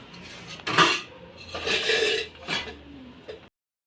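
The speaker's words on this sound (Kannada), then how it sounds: "ಎಲ್ಲಕ್ಕಿಂತ ಫಸ್ಟು ಭಾಂಡೆ ತೊಳ್ಕೊತೀನಿ" Dishes and cooking vessels, including a pressure cooker, being washed by hand at a kitchen sink: close, irregular bursts of clattering metal and clinking utensils, ending in a brief pause.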